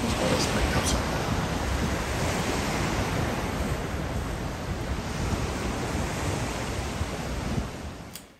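Ocean surf rolling onto a beach near Crescent Bay on the California coast, a steady, loud wash of breaking waves with wind noise across the microphone throughout.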